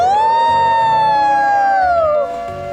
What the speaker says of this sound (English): It's her nuclear siren.